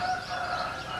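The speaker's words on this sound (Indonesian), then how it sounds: "Ayam berkokok dan burung-burung berkicau menandakan dimulainya hari yang baru." A rooster crows in a sustained, wavering call at sunrise, with birds chirping around it against a steady morning backdrop.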